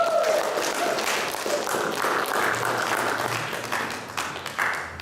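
A church congregation claps and applauds loudly and steadily, a dense wash of many hands that eases a little toward the end, with a voice faintly audible underneath.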